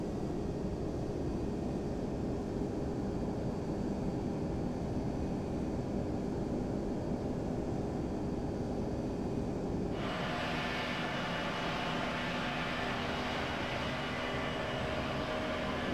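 A Boeing 767 descending and slowing in a flight simulator produces a steady engine and airflow drone. Partway through, the hiss brightens and holds at a constant level with no talking.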